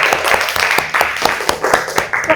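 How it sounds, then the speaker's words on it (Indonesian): Classmates in a school classroom clap together for about two seconds, a loud, close, fairly rhythmic burst of hand claps with no talking. "Tepuk tangan dua temannya."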